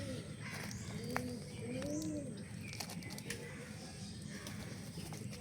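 Pigeons cooing near an earthen clay stove on a sunny day, soft repeated low coos with some wing flapping and faint chirps, and a person talking in the background.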